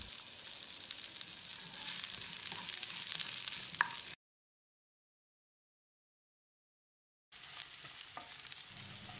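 Quarter kilo of okra cut into inch-long pieces sizzles and crackles steadily in hot oil in a pan while being stirred, a close, continuous fry that cuts out abruptly into silence and then resumes.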